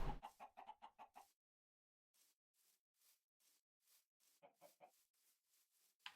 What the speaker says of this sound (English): I heard a chicken sound. Oh, it's just an eagle.